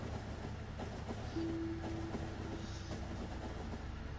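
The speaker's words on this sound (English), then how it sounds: "I'm taking the train back to the oil depot" A train rolls along in the factory-building game Factorio, a steady low rumble with faint rhythmic clicks and a short tonal whine partway through, moderately quiet and continuous without speech.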